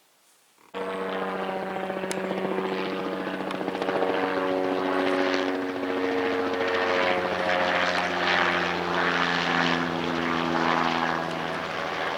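Aircraft circle low over a nearby forest fire, a steady loud propeller drone with a droning harmonic hum that swells and holds without a break.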